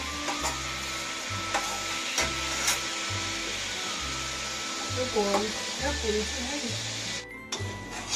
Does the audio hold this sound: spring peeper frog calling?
no